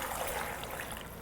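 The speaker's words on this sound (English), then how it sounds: "So now we're gonna pour that right in." Bourbon pours in a steady, quiet trickle over a pork and apple pot roast, a soft continuous liquid stream with no talking.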